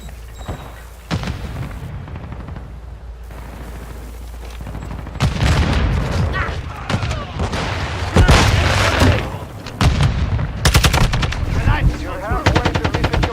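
A Semtex grenade goes out amid heavy gunfire in Modern Warfare II: rapid machine-gun bursts and loud booms crowd the scene, growing denser and harsher partway through, with shouted callouts mixed in.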